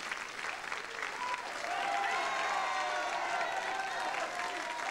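Sustained audience applause for boxer Stéphane Ferrara on a 1985 Champs-Elysées television show, a dense, even roar of clapping that swells slightly and holds steady, with faint voices mixed in.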